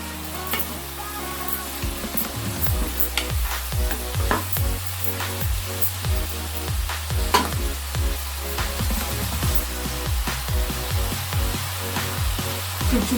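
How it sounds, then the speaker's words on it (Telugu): Gobi (cauliflower) curry sizzles in a pan while a spoon stirs and scrapes in a steady repeating rhythm, close and continuous with no talk. "ఒక్కసారి కలుపుకుందాం."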